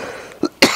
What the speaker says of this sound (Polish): Przepraszam, że tak kaszlę